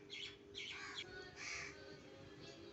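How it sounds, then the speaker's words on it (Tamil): Crow chicks in a nest cry out in repeated harsh, raspy bursts as their parents feed them, several calls in a row, moderately close but quiet, with no voices. "2 குஞ்சு கத்திக்கிட்டே இருக்கும்."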